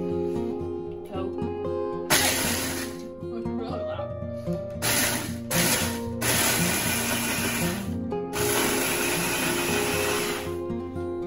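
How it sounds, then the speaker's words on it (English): A food processor blitzing Oreo cookies roars in loud bursts that start and stop several times, with a softer whir between pulses. "put them in a food processor, and we're gonna blitz them up"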